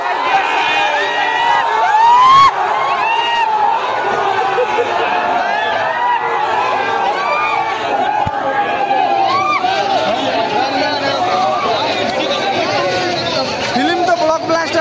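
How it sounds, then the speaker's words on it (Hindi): A large, dense crowd gathered outside a cinema hall during a packed showing, its continuous chatter and shouting forming a loud, steady hubbub with occasional whoops and cheers rising above the babble. "अभी देख सकते हैं भीड़ हॉल के बाहर"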